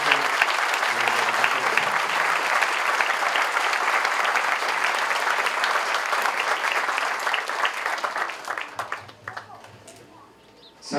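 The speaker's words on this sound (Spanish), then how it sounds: "Damos un fuerte aplauso." Loud, dense applause fills a parish church during a bishop's decree announcement in San Juan de los Lagos, Jalisco, sustained for several seconds before thinning out and fading near the end.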